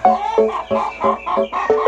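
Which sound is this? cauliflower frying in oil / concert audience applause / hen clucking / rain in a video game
hen clucking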